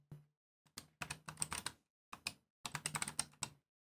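Keys clatter on a computer keyboard in short clustered bursts separated by brief pauses, close and fairly quiet, with no one speaking.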